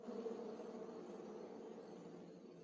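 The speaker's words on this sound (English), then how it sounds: "Sounds like bees." Tabletop game ambience of buzzing bees, a faint continuous insect drone with steady texture and no break, playing softly on its own without voices.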